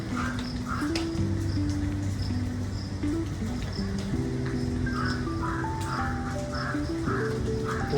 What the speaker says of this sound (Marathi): साईडचा जो आवाज येतोय पक्ष्यांचा